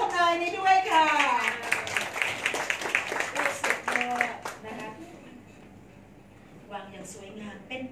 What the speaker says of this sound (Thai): ขอเสียงปรบมือใดๆกับคำทำนายนี้ด้วยค่ะ